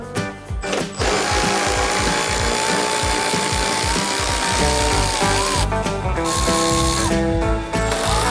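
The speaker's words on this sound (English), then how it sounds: "So we'll remove that 10mm bolt there, the 2 on the top, and then we will be able to remove the headlight." A ratchet works loose the 10mm bolts holding a Toyota Tacoma headlight, its steady clicking running almost nonstop for several seconds, close and fairly loud, with brief pauses near the start and end.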